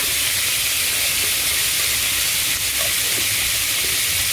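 Mushrooms and onions sautéing in a pan for a mushroom sauce, a steady, fairly loud hiss of frying with faint scattered crackles and no talking.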